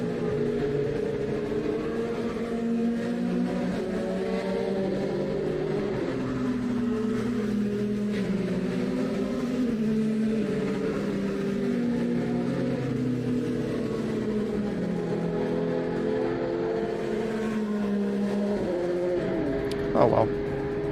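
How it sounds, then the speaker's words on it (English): Race cars circulate behind a pace car at reduced speed, a steady droning engine hum with shifting tones carrying on without pause, loud and continuous with no talk over it. "You can see the pace car there, right? So these cars aren't going full tilt right now."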